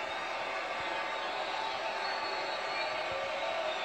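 Steady roar of a basketball arena crowd during an OKC and Timberwolves game, fans making noise to distract Carmelo at the free-throw line; a dense, continuous wash of voices, fairly far off and even in level.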